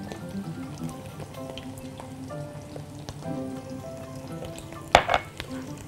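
Garlic goes into a frying sauce of roasted peeled peppers and green onion, giving a steady sizzle with stirring and faint clinks throughout, and a brief louder burst of spitting near the end.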